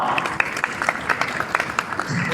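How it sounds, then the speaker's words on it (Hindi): An audience at a Bollywood film trailer launch claps in scattered bursts at moderate volume while voices carry on talking over the applause. "जोरदार तालियां, कम ऑन"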